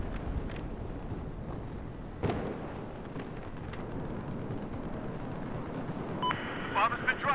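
A bomb explodes in Battlefield 4 with a sudden deep boom, set against constant loud rumbling battle noise and wind, with sharper metallic game sounds near the end.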